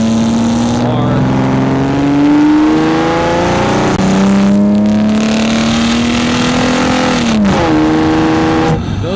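Car engine revving, picked up by a microphone inside the air intake in the engine bay: a loud, continuous intake roar whose pitch climbs steadily, drops sharply a few times, then climbs again.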